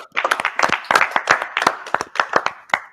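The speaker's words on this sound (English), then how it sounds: "round of applause for Smack and Morshadi for this" A handful of people clapping for a fantasy league result, quick uneven claps close to the microphone, sparse enough that individual hand strikes stand out, lasting a few seconds.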